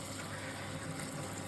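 Running water rinses through the lace of a hair replacement system, a steady close splashing gush with no pauses and no talking.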